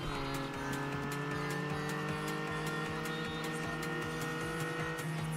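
Supercharged car engine in the mountain pass racing game Redline Reverie, a loud sustained drone with a whining overtone and steady rhythmic pulsing throughout, no talk over it.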